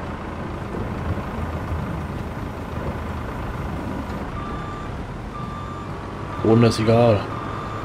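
Farming Simulator 22 vehicle reversing beeper: two loud, close electronic beeps near the end over a steady idling engine hum, with someone talking in German.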